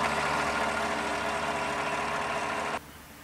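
A 2015 GMC Sierra 1500 pickup's 5.3 liter V8 idles steadily and close, a smooth even hum that drops away abruptly near the end, with no voices.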